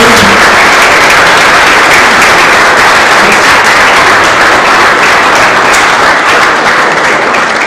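Banquet guests at a track and field hall of fame induction give loud, steady, dense applause, a continuous wash of clapping that holds for the whole stretch.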